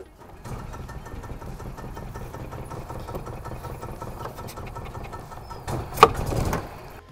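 A Club Car golf cart is started without a key, its small engine catching and running with a steady, rough idle and faint knocking, then revving up in a brief louder burst near the end.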